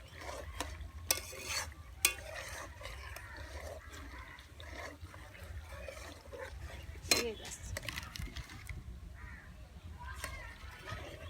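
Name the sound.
butter simmering into homemade ghee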